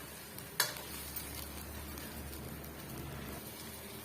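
Fish curry masala simmers and sizzles in a pan, with a quiet, steady frying hiss and one sharp scrape of a spoon stirring near the start, no voices.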